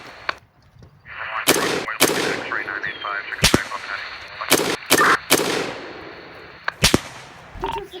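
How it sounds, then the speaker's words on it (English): About eight sharp gunshots crack out in an irregular series during an active shooter incident, loud and close, each leaving a short echo over a faint hiss. Voices are heard between the shots. "Shots have been fired."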